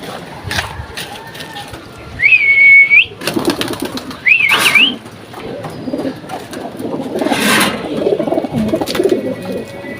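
Pigeons call with bright whistled coos and bird sounds over a busy, noisy background while being fed rice starch, with brief bursts of activity in between.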